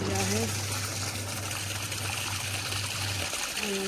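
Water from a washing machine trickles and pours steadily while clothes are rewashed at home, a continuous close splashing stream with a low motor hum underneath.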